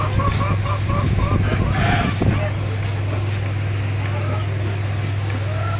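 Hill roosters crow on a farm, their calls moderately distant in the first seconds, under someone talking and a steady low mechanical hum.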